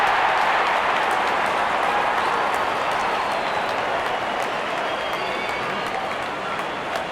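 Steady roar of a large cricket stadium crowd cheering and clapping at an England vs New Zealand match, a dense continuous wash of noise holding level throughout.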